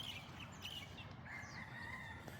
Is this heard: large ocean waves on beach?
no